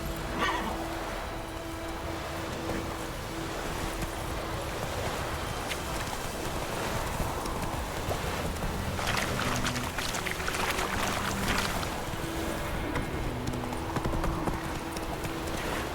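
Horse hooves clip-clop steadily while riding in The Witcher video game, a continuous rhythmic trot heard up close over ambient game sound and wind, with a brief distant voice-like sound near the end.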